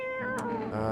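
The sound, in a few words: cat meowing in a video game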